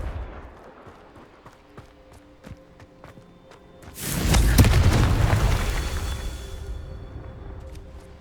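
A Confringo fire spell blasts in the video game Hogwarts Legacy, erupting at about four seconds into a loud, booming explosion that rumbles and fades slowly, after a stretch of quiet footsteps and small clicks.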